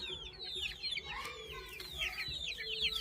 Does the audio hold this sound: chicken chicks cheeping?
yes